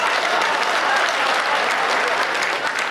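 An audience at a Hindi comedy poetry gathering claps loudly and continuously, dense applause filling the whole moment before cutting off at the end.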